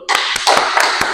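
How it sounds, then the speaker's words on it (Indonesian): Hands clapping in a classroom after a student's turn at a programming lesson, a handful of sharp, uneven claps close by over about a second with no talking. "Tepuk tangan dulu."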